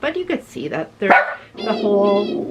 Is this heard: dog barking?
yes